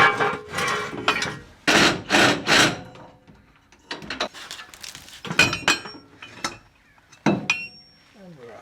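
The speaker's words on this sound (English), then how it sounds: "So I'm going to take the downpipe off here and just extend it a tad to give us some clearance." Work on the exhaust downpipe of a Series Land Rover under restoration produces irregular metallic clanks, knocks and scraping bursts, some loud and some fainter, with quiet gaps between them.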